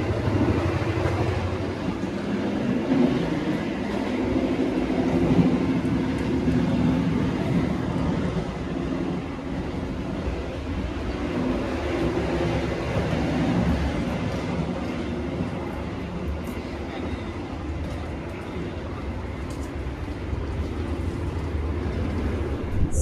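Argo Bromo Anggrek new generation express train running, heard inside the dining car as a continuous low rumble and rattle of wheels on track, steady and unbroken throughout.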